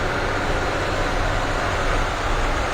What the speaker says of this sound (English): You hear those revs drop a lot.